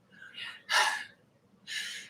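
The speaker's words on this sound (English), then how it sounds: "I think I'm panting" Heavy, breathy panting from a person mid-workout during a legs and weighted core session, a few sharp gasping breaths close to the mic with short pauses between them.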